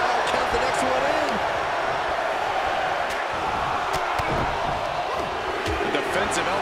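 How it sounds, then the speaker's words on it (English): A wrestling arena crowd in the WWE 2K23 video game hums steadily during a Royal Rumble match, a dense continuous murmur with faint scattered shouts and a commentator's voice over it. "Listen to this crowd"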